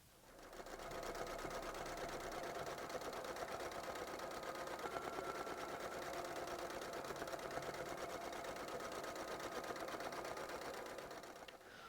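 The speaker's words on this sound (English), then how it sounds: "I'm going to take this over to the sewing machine that is prepared with the water-soluble thread and just stitch" A sewing machine stitches a quilting design with water-soluble thread for several seconds, a fast, even mechanical whir heard up close with no talking.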